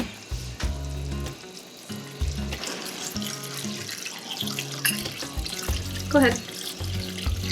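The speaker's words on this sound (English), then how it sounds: "then you're gonna add some more water to that." Water runs from a tap into a pot of vegetable soup with potatoes in a home kitchen, a steady splashing stream broken by clinks and knocks, with a voice speaking briefly.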